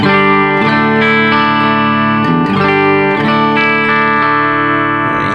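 Electric guitar through a Wampler Thirty Something overdrive pedal, treble up to 3 o'clock, plays chords with a bright, crisp edge, the strums sustaining loudly with plenty of sizzle on top.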